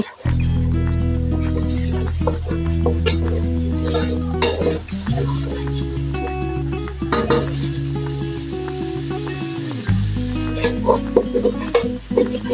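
Spice masala is stir-fried (kosha) in a pan for an Indian dish, a steady close sizzle and frying hiss with scraping stirs throughout, with no talk.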